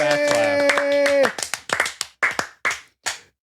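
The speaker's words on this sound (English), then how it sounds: "He's really into the clapping." Sharp hand claps land in a loose, uneven rhythm, close and loud, after a sung note at the opening; about eight separate claps follow, each ringing briefly.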